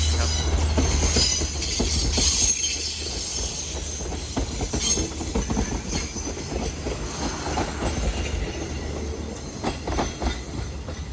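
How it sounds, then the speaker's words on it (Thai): SRT express train No. 85, running from Bangkok to Nakhon Si Thammarat out of Surat Thani with extra sleeper cars, rolls past close by in a steady loud rumble of wheels and rail clatter with occasional squeal, no voices. "ออกจากสุราษฎร์ธานีไปแล้ว ครับขบวนรถด่วนที่ 85 กรุงเทพนครศรีธรรมราช"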